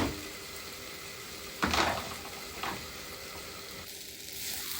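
Cubed potatoes with a few green chillies frying in hot oil give a steady, close sizzle, with a couple of brief louder bursts partway through.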